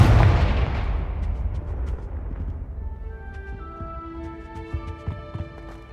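Confringo fire spell in Hogwarts Legacy going off as a loud booming blast that rumbles and decays over a few seconds, followed by scattered small pops and ringing magical chimes.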